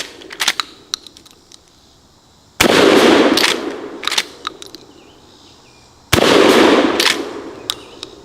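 Two loud, sharp blasts from a real M97 trench shotgun fired outdoors, spaced a few seconds apart, with scattered clicks and clacks of handling between the shots.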